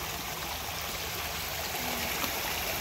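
A waterfall and creek pour and rush in a steady, continuous wash of flowing water, close and fairly loud, with no voices.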